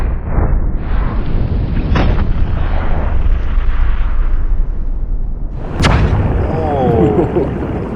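Black powder gun shots fire outdoors, with a loud boom near the start, smaller reports, and one sharp, powerful blast later, all over a rough background rumble.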